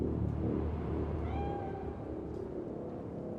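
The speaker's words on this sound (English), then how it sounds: "It's just a cat." A cat meows in the Cyberpunk 2077 video game, a single drawn-out call with a wavering pitch, heard alone over a steady low ambient rumble.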